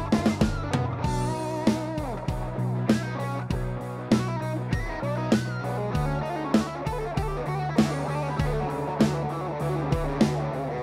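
Electric guitar played through a Digitech Trio Plus and a modified Metal Zone distortion pedal, with aftermarket pickups, giving a steady run of bright, distorted picked chords and notes with a regular rhythmic pulse, close and loud throughout.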